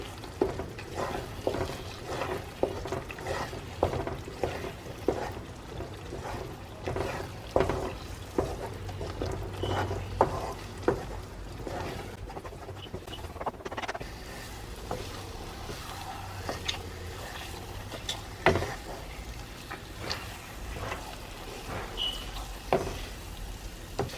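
Makhandi halwa cooking in a pan with milk and cardamom, heard as a steady soft sizzle with repeated scraping stirs at an irregular rhythm, close and fairly quiet, with no talking.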